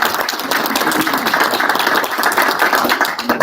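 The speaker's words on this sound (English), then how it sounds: "So let's have one more round of applause." An audience at a school board meeting gives a continuous round of applause, a steady wash of many hands clapping close by with no talking over it.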